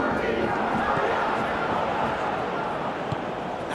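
A stadium crowd roars in a PES 2021 football match, a dense, steady wall of cheering that holds loud and near for the whole stretch, with commentary voices mixed underneath.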